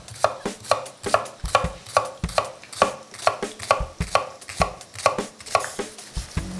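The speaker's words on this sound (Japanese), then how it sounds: "玉ねぎを刻んだらですね" A knife chopping onion on a board, quick regular thuds in an even rhythm of about two per second, close and crisp, with no voices.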